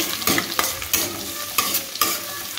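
Chopped garlic is stirred and fried in a pan for homemade fried rice: close, rhythmic scraping strokes about every half second over a steady bright sizzle, with no voices.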